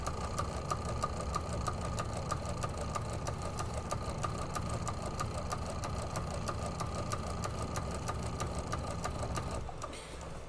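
A sewing machine stitches around the edge of a fabric table runner in a steady, rapid, close mechanical run that continues unbroken until it tapers off right at the end.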